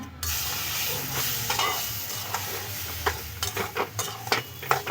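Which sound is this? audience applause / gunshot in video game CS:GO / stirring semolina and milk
stirring semolina and milk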